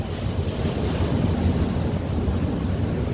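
Strong wind buffets a UK beach as surf breaks nearby, a loud, unbroken roar with heavy microphone rumble.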